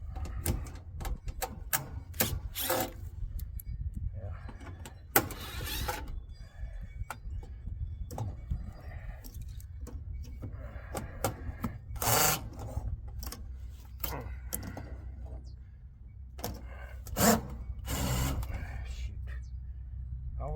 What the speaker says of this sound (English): We'll pull them screws here out.